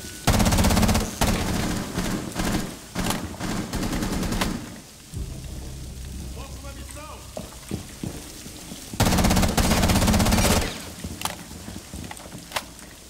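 A gun in Rainbow Six Siege fires in rapid bursts, loud and close, in two long automatic volleys separated by a quieter stretch with scattered single shots and faint game ambience.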